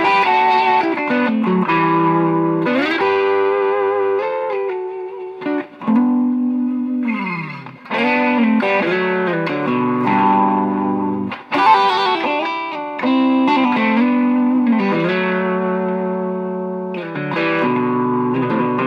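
Electric guitar played through a TC Electronic Quintessence harmonizer with overdrive, distorted phrases with stacked harmony notes and bends, loud and close with brief gaps between lines.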